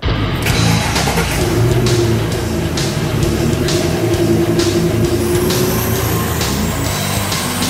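Ford Mustang engine revving hard on a dynamometer, loud and close, climbing through repeated pulls with a rising whine and rapid firing pulses, no voices.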